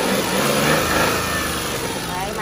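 A 2011 Chevrolet Spark with a 0.8-litre three-cylinder engine and manual gearbox idles close by in a steady, even hum, while someone talks over it.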